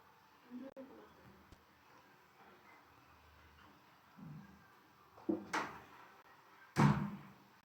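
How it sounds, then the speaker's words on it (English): An indoor door is pushed shut, a few soft handling knocks followed by two sharp closing thuds near the end, set against quiet room noise and low, intermittent talking. "Can you close the door?"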